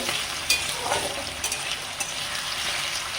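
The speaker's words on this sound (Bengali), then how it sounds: "তেলটা গরম হয়ে গেলে আমি আলুটা ভেজে নেব। আলুটা আমি লাল করে ভেজে নেব" Potatoes frying in hot oil in a kadai, an even, loud, close sizzle with a few sharp clicks of a stirring utensil scattered through it, no talk.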